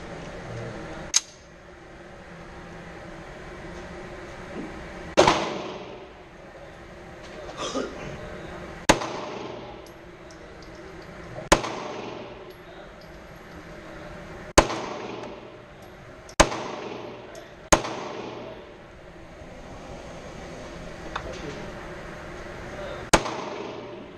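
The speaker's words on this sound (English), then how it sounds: "I'm gonna shoot Megan's gun." Gunshots at an indoor gun range during target practice, eight sharp loud reports spaced a few seconds apart with echoing tails, quiet voices between shots.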